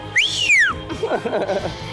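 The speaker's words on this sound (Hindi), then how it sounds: "सब मिलकर सीटी बजाने लगते हैं" Girls whistle together as a group to deter a harasser: one shrill, clear whistle sweeps up and then glides down, followed by a soft murmur of voices.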